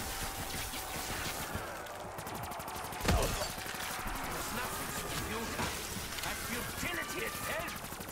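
Rapid gunfire from Black Ops 3 Zombies fills the whole stretch as dense, continuous bursts with one louder crack near the middle, while a player talks over the shooting.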